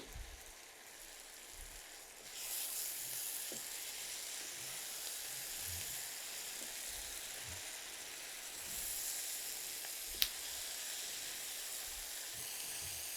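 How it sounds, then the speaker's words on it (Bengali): Garlic fries gently over low heat, a faint, even hiss like soft rain that rises slightly after a moment and continues steadily, with one brief sharp tick partway through. "অল্প আঁচে এগুলো একদম ভাজা ভাজা করে নিব"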